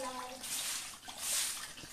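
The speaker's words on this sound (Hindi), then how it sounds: "झाड़ू लगा दीजिए बढ़िया से" Water splashes and swishes as a broom sweeps a flooded floor in a damaged hillside culvert house, the wet scraping strokes fairly close, with a voice faintly in the background.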